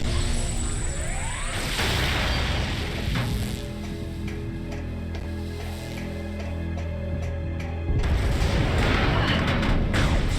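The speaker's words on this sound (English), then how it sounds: "So no damage from the scripted explosion that we had no chance to avoid there." A scripted explosion in the Metroid Prime 3 video game sets off a loud, continuous rumbling boom with metallic mechanical clatter. It swells again near the end, with no talking over it.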